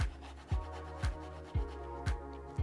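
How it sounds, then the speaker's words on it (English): A lemon is scraped with a zester in a home kitchen, making rhythmic rasping strokes about every half second, close and fairly quiet, with no talking. "I'm going to scrape the zest over here."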